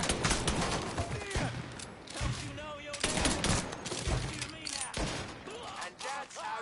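Gunfire in the Mafia III video game rattles in scattered bursts and repeated shots amid a busy game soundscape, moderately loud, with voices speaking over parts of it.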